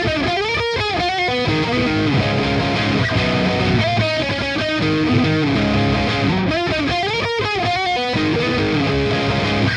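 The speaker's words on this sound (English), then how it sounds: "we have the neck split coil in distortion" Electric guitar on an Ormsby Hype GTR Elite Copper Print six-string, played through distortion with the neck pickup split, giving loud continuous chords and riffs with rhythmic chugs and no talking.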